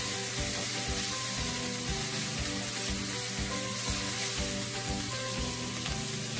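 Tofu, green onions and leaves stir-fry in a pan for vegan pad thai noodles, giving a soft, steady sizzle with a low hum underneath and faint intermittent tapping throughout.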